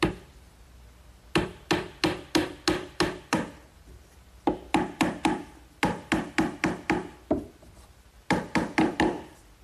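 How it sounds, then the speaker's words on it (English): Small 4-penny finish nails being driven into wood by hand, in quick bursts of sharp hammer blows, about six to eight strikes per group with short pauses between, close and crisp. "I'm just going to set these in place with some 4-penny finish nails"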